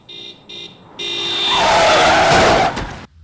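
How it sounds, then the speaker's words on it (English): A few short beeps, then a rising, drawn-out screech of skidding tires that swells loudly before a sudden harsh impact cuts it off. "Ruby hears tires screeching followed by a crash."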